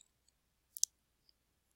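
Computer mouse gives a quick double click, small and close in near silence, with a faint tick shortly after.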